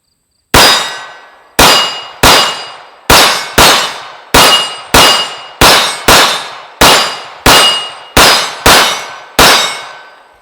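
CZ P-01 compact pistol fired at steel targets about 12 yards away, a steady string of thirteen sharp shots, each followed by a bright metallic clang that rings out briefly, loud and fairly evenly spaced.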